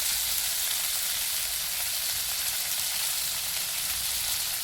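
Onion, garlic and curry leaves sauté in a pan for a Tamil sundavathal kuzhambu, giving a steady, close, even sizzle that hisses without a break for the whole stretch.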